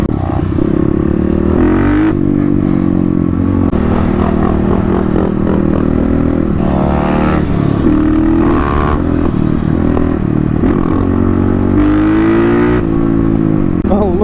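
Kawasaki KLX250 dual-sport motorcycles, matched against a KLX351, roll-race in a drag run. Loud, close engines climb in pitch through repeated gear changes, the revs rising, dropping and rising again over several pulls.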